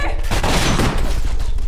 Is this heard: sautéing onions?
no